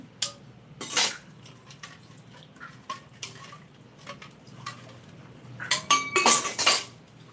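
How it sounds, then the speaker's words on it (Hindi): Dishes being washed by hand, with cutlery and metal pots clinking and clattering close by in irregular bursts, heaviest toward the end, and water faintly in the background. "इसीलिए मैं बर्तन धो रही हूँ"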